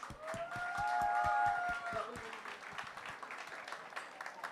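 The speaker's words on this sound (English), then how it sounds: "Keep them a big round of applause." Applause for teachers at a kids' cultural program, with distinct individual claps mixed with tonal voices or music early on, fading to scattered, quieter clapping.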